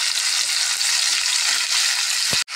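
Potatoes and green chillies sizzle loudly in a hot pan, a dense continuous hiss close up, broken near the end by a brief knock.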